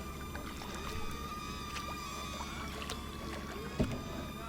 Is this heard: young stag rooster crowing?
no